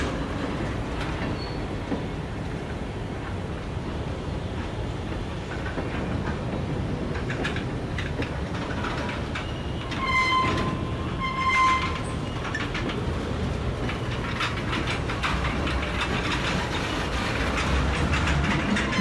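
Kansas City Southern local freight train rolling past in Jefferson, Texas, a continuous loud rumble of wheels and cars with brief metallic squeals partway through and no talking.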